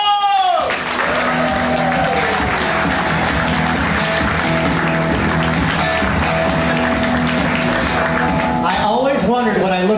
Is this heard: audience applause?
yes